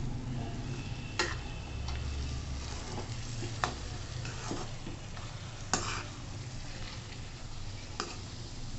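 Carrot halwa with ghee and raisins is stirred in a pan, a soft continuous sizzle broken by sharp, occasional scraping clicks of the spoon against the metal, close and unvoiced.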